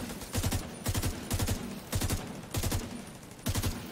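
Gunfire in a shooter video game rings out in regular bursts, about seven rapid volleys spaced roughly half a second apart, loud and close with no talk over them.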